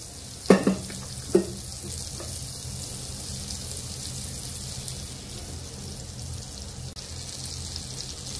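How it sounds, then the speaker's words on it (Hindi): Butter and oil sizzle in a hot kadai with a steady, quiet frying hiss, broken by a few sharp clinks near the start. "यामध्ये थोडंसं बटर टाकणार आहे। थोडंसं तेल सुद्धा टाकणार आहे।"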